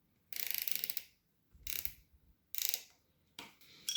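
A bolt being tightened on a jump starter, four short bursts of close metallic ratcheting clicks separated by brief quiet pauses, fairly faint with no talking.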